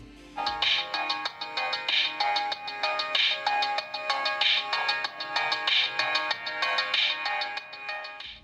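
A Nokia XpressMusic phone plays a ringtone-like melody through its small built-in speaker, a bright, repeating pattern of tinny electronic notes that carries on steadily and fairly loud for the whole stretch, with no voices.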